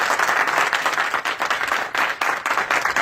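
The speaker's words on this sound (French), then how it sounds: "Si vous êtes d'accord, applaudissez pour..." A crowd bursts into applause, thick clapping that swells and dips in pulses across a few seconds, with no speech on top.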